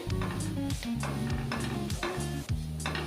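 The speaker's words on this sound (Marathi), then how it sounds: "एखाद मिनिटासाठी मस्त असं परतवून घ्यायचं" Metal scraping and stirring clatters repeatedly over a soft background sizzle as ground masala fries with capsicum in a pan, a busy, rhythmic cooking sound with no one speaking.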